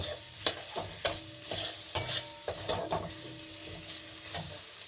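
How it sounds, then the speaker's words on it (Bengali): Tomatoes and green chilies sautéing in a pan with a bay leaf, a soft sizzle under several sharp scrapes and clacks of a spatula stirring, close and moderately loud with no voice. "এখন এখানে আমি টমেটো আর কাঁচা লঙ্কা দিয়ে দিচ্ছি এটা একটু কষিয়ে নেব"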